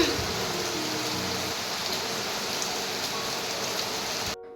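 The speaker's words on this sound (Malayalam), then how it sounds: "പുറത്തിതാ നല്ല തകൃതിയായിട്ടുള്ള മഴ പെയ്തുകൊണ്ടിരിക്കുകയാണ്." Heavy rain pours outside in a steady, dense hiss of drops drumming on surfaces, even and continuous with no voices, before cutting off abruptly near the end.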